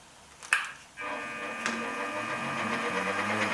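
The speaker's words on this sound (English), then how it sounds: "I'm not sure I can take a whole millimeter with my small mill here" Small milling machine cutting metal while making a boring bar: a sharp click, then a steady whining motor and cutter tone with a rising pitch, close and continuous.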